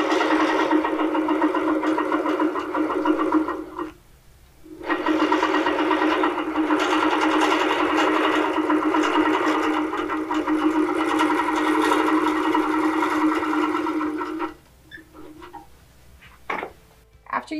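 A longarm quilting machine run by a Pro-Stitcher Lite stitches across fabric with a loud, steady motor whir. It pauses briefly near four seconds, runs on at a constant pitch until about fourteen seconds, then stops, leaving quiet clicks.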